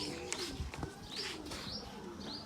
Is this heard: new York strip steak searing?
no